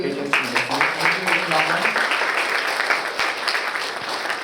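Audience applause after a talk at the Off-By-One 2024 security conference, a sustained wash of clapping that stays steady and fairly loud, with a voice briefly speaking over it at the start.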